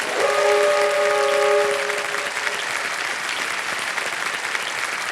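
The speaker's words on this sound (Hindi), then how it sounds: "एक बार फिर जोरदार तालियां बज जाएं इनके लिए" A studio audience at a television quiz show breaks into loud, sustained applause that fills the room and holds steady throughout, with a brief musical tone near the start.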